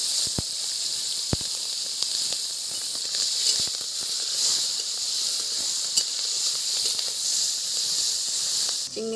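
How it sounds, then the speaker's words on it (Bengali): Prawns fry in oil in a wok with a steady, loud hissing sizzle, dotted with a few sharp pops and utensil taps, heard close up with no talking. "তাই অল্প একটু চিংড়ি মাছ আমি ভেজে নিই।"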